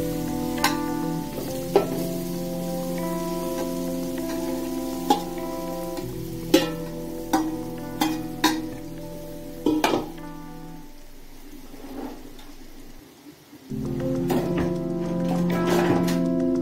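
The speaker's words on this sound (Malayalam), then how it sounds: "ജസ്റ്റ് ഒന്ന് ഇളക്കിയെടുക്കാം, അല്ലാതെ വേവിക്കൊന്നും വേണ്ട കേട്ടോ." A kadumanga mango pickle mixture is stirred in a pan, with a steady sizzle and repeated sharp scrapes and clinks of a spoon against the pan. There is a short quieter gap before the sizzling resumes.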